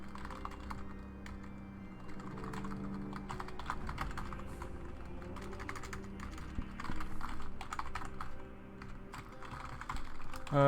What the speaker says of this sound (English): Just typing out to some people.